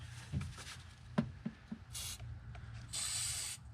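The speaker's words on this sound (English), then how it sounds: "Load it up, just spray it. Don't be shy with it." Aerosol terminal protectant hisses onto a car battery's terminals in two short bursts, close and crisp, between light clicks and handling noises of the can.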